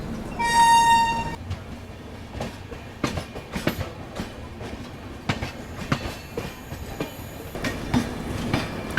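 Vikramshila Express passenger train on the move, with steady rolling rumble and repeated clickety-clack of wheels over rail joints, plus a brief high horn or whistle tone near the start.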